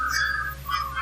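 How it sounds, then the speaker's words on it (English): A faint, wavering whistle-like tone drifts over a steady low hum in a living room, rising and falling softly for about a second. "we heard a whistling on there"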